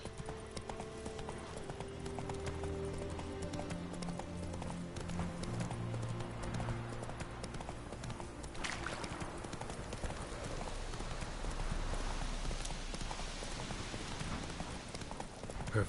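A horse gallops in The Witcher 3, steady clip-clop hoofbeats running throughout at a fast, even pace amid game ambience that suggests light rain, moderately loud and with no talking.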